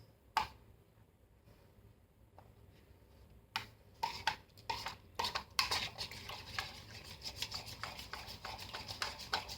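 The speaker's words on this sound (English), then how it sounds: "Give it a stir. Remove any lumps or clumps." A spoon stirs a micellar water mixture containing aloe powder to break up lumps, giving irregular scraping and clinking strokes that quicken and crowd together in the second half, close and fairly crisp with no talk.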